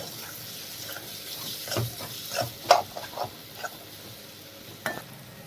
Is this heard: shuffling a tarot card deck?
no